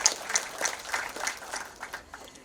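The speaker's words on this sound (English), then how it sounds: "One more time, ladies and gentlemen, a big round of applause." A round of applause from the audience at a formal event opening a semiconductor manufacturing plant, scattered uneven clapping at moderate volume that tapers off.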